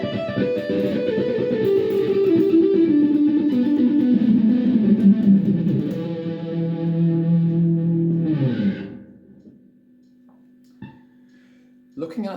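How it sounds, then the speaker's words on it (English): Effects-laden electric guitar plays a rhythm pattern in a quintuplet feel, loud and steady for about eight seconds before a chord rings out and fades, with a few faint plucks after, alone without talk. "This done at quintuplet feel will then sound like this."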